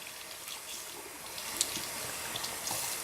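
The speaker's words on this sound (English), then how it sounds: "make sure the water is on the cooler side" Cool tap water runs steadily while rinsing natural hair extensions in a sink, a continuous hissing splash with small bursts of spatter, close and alone.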